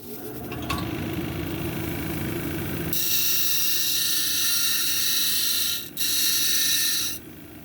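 A lapidary grinding wheel shapes a tiger's eye cabochon at an angle, giving a loud steady high whine and hiss that starts abruptly partway in, dips briefly, then resumes and cuts off near the end; a lower motor hum runs beforehand.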